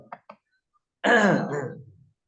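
During Quranic recitation, two faint clicks are followed by a single throaty cough or throat-clearing that lasts about a second, then silence.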